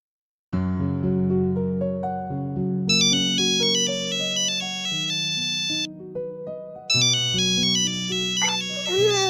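A phone ringtone plays a bright electronic melody loudly and continuously, repeating its tune with a brief pause midway.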